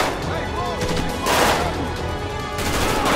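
Dense, continuous gunfire from a GTA 5 gang shootout, with rapid overlapping shots and bursts forming a steady barrage, loud and close, with no clear pauses.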